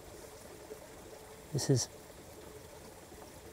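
Ice-cold spring water flows out of sand with a steady, soft rushing trickle throughout, while someone speaks briefly over it.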